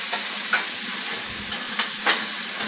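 A pot of chicken and dumplings simmering on the stove, giving off a steady close sizzle and hiss, with a few soft scraping stir strokes breaking through now and then.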